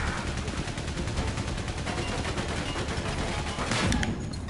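Sustained rapid gunfire and explosions from the World War I video game Valiant Hearts, a dense continuous barrage with a sharper burst near the end, no voices.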